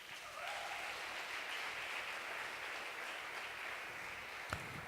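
Church congregation clapping in praise, a faint, even patter of applause sustained for several seconds, ending with a single sharp knock.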